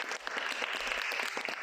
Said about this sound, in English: please give me a big round of applause for Lindsay and Geoff Hadley.